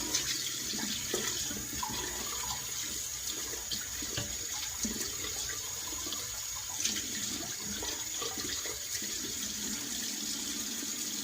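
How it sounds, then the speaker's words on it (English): Tap water runs steadily while a shaving mug is rinsed, a continuous close splashing flow with small fluctuations and no voices. "shaving mug is rinsed"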